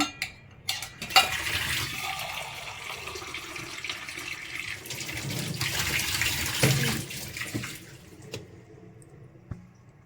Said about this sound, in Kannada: ನಾನಿಲ್ಲಿ ರೇಷನ್ ರೈಸೇ ತೊಗೊಂಡಿದ್ದೀನಿ ಸೊ ಅದನ್ನು ತೊಳೆಯೋಣ ಅಂತ